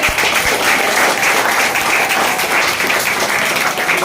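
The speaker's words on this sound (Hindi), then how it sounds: "तो एक महिलाओं के लिए जोरदार ताली हो" An audience at a women's planner event in Virar West applauds loudly, with dense, steady clapping that fills the whole stretch without a break.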